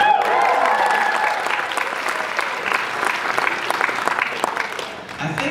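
An audience at a Fanboy Expo Q&A with an actor claps in loud, sustained applause that fills the hall and tapers slightly toward the end, with some voices mixed in.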